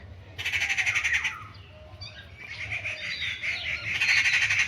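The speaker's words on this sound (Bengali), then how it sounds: "কত পাখি ডাকছে।" Many birds call at once on a morning rooftop surrounded by trees, bright overlapping chirps and squawks rising in two dense bursts with a quieter gap between, no speech.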